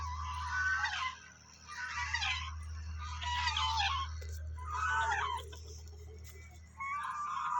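Hens cluck repeatedly in bursts at a two-storey backyard coop, fairly near, over a steady low hum from nearby machinery.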